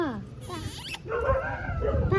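Dogs fighting produce high, wavering whimpers and yelps that rise and fall over a noisy outdoor background, while people talk nearby.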